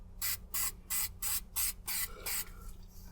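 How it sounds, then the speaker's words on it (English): A close can of 3M spray adhesive hisses in seven short, evenly spaced bursts, each about a quarter second, with brief pauses between sprays. "This 3M spray glue is actually pretty good stuff."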